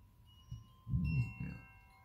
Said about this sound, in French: Là maintenant, je vais utiliser le carillon